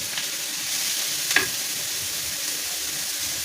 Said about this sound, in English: to stir fry the rice. I'm gonna put my onions, at this point I'm gonna add my carrots